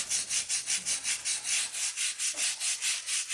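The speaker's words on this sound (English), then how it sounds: "we're going to sit there and just scrub it" A stiff cleaning brush scrubs a narrow crevice soaked with bleach, making a steady run of about a dozen quick, even back-and-forth rasping strokes up close with no talking.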